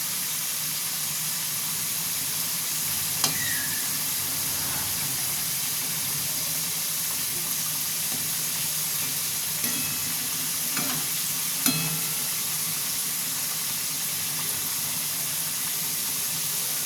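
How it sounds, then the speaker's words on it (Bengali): Potatoes frying in a pan of hot oil until reddish-brown, a loud, steady, close sizzle throughout with occasional sharp clicks and scrapes of a spatula. "আপনারা এরম একটু লাল লাল করে ভাজবেন"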